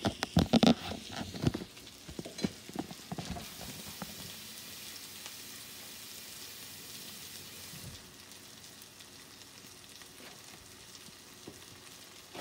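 Wishi mushroom fries in oil in a skillet, opening with a few sharp clatters and crackles before settling into a soft, steady sizzle that continues alone.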